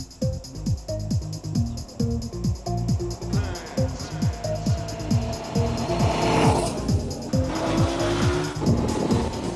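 A Honda VFR V4 motorcycle engine, rated at 97 brake horsepower, accelerates through repeated rising gear runs. Each rev climbs in pitch before a shift, and it grows louder and closer as it builds.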